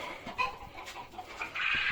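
Hens cluck in a henhouse in short, uneven bursts at close range, with a busier stretch of squawking toward the end.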